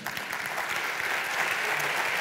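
Studio or debate audience at a discussion on journalism applauding, a dense sustained burst of clapping from a crowd, close and fairly loud, alone without talk.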